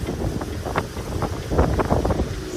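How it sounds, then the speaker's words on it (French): Steady, gusting wind rushes over a sailboat racing offshore in the Transat Jacques Vabre, a dense roar with rhythmic surges, close and fairly loud with no voices. "il y a du vent"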